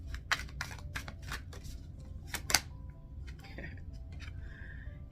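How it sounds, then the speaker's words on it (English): Tarot cards being shuffled by hand, a series of soft, quick riffling flicks and taps close to the microphone in a quiet room, with no talking. "Shuffle."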